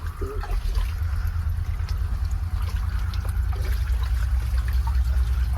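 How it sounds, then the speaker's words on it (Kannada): Running water trickles and splashes steadily under a low rumble in a gem mine in Sri Lanka, with occasional faint knocks and scrapes nearby. "ನೀರು."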